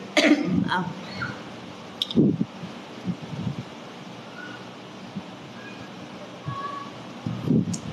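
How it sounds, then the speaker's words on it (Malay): A few short coughs break out near the start and again later, close by, over a soft background hiss with scattered quiet noises. "Kalau cakap banyak-banyak dia batuk."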